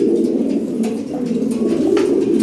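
Steady, loud pigeon cooing fills the clip, a low warbling murmur from several birds close by, with faint rustling in the background.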